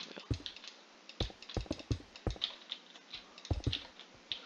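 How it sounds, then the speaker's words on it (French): Quick bursts of typing on a computer keyboard, close and crisp, with clusters of sharp clicking keystrokes separated by brief pauses, heard on their own without talk. "j'ai tapé beaucoup sur mon clavier"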